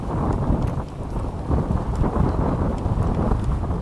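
Strong wind gusts steadily across the microphone at a coastal shell mound near Cedar Key, a loud, continuous low roar and buffeting that fills the whole clip with no talking.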